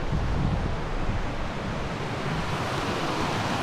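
A creek in flood in Arkansas rushes steadily beneath a large bridge, a loud, dense broadband wash of water that stays constant throughout with no voices.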